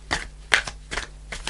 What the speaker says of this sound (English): So I'm just shuffling the cards and seeing what message comes.